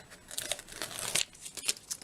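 Burlap is handled while being fitted onto a gift bag, producing soft, close rustling and crinkling scuffs in short irregular bursts, fairly quiet and with no voices.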